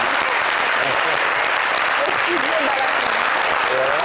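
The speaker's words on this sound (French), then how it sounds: "Je pense que c'est à applaudir ça" Studio audience on a variety talk show applauds steadily, a dense even wash of clapping for about four seconds with voices faintly talking underneath.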